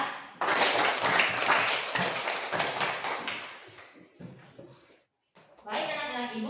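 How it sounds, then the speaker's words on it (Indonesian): Children and adults in an Indonesian classroom clap together for a child named Linda, a loud burst of dense, steady hand claps lasting several seconds. The clapping thins out and ends, and a voice follows. "Kita berikan tepuk tangan dulu untuk anak Linda."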